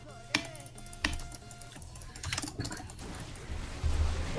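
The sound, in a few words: mouse or keyboard clicking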